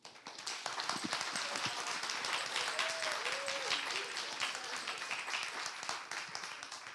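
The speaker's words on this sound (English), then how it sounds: "let's have another round of applause" An audience at a fashion and enterprise summit applauds steadily for about seven seconds, a dense continuous clapping wash with scattered louder claps, heard at a moderate distance with faint voices beneath.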